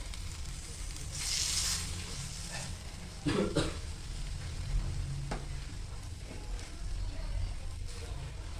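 Butter pav sautés in a pan with a soft, steady sizzle and crackle under a low kitchen hum, with occasional brief clinks and scrapes.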